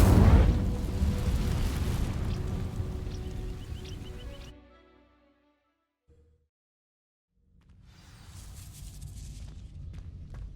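Incendio fire spell from Hogwarts Legacy igniting dry vines: a heavy roaring whoosh of flame that fades into near silence, followed by a softer rumbling burst some seconds later.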